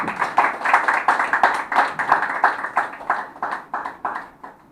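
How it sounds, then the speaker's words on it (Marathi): An audience at a 50th wedding anniversary gathering claps for the couple, a short burst of dense, steady applause that fades out toward the end. "प्रथम आपण सर्वांनी त्यांचं टाळ्या वाजवून अभिनंदन करूया. मोठ्या टाळ्या येऊ दे."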